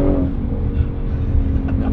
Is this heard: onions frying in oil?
no